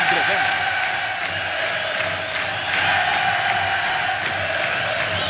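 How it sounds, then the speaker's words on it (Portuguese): Fluminense supporters in the stands at Maracanã during a 2008 Libertadores match, a broad continuous crowd roar with rhythmic chanting, under a commentator's voice. "a torcida corresponde nas arquibancadas ao bom futebol do time no campo"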